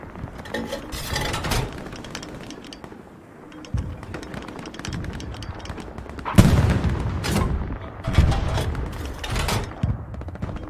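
Gunfire in the World War II shooter Hell Let Loose, with repeated bursts of rapid shots and heavy booming reports in uneven clusters, loud and close, with brief faint voices between volleys.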